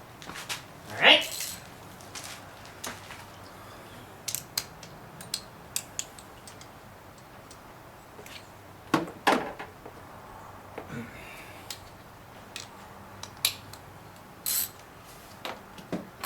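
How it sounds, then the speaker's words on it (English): Hose clamps being tightened on a drive-by-wire throttle body: scattered sharp metallic clicks and ratcheting taps of a tool, some in quick clusters, close and fairly quiet against a low background. "Tighten up our hose clamps."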